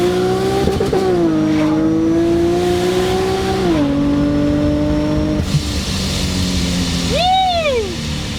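A 560 hp supercharged Infiniti G37 drones steadily under hard acceleration, its engine pitch stepping through several shifts, with a brief rising whistle near the end. The sound is continuous and loud throughout.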